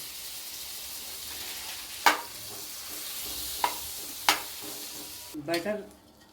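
Butter melts and sizzles in a kadai for basmati pulao, a soft steady crackle punctuated by a few sharp clinks of a spoon, with a brief voice near the end.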